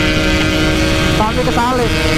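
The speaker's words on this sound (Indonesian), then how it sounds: "Gila, motornya kenceng ya" A Yamaha RX King two-stroke motorcycle engine roars at top speed, a steady loud drone with a rising and falling whine partway through, while someone talks over it.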